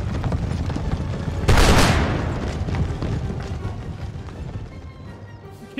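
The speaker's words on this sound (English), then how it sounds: "Let's just run you guys forward to fire another volley." Musket volley from troops in the video game Empire Total War: a dense burst of gunfire lands near the start, then a rumbling roar of battle trails away as noise keeps going underneath.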